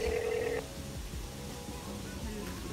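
A landline telephone rings with a few quick electronic trills near the start, then stops abruptly as the handset is picked up, leaving room noise and faint movement afterward.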